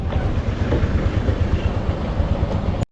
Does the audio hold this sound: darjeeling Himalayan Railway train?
yes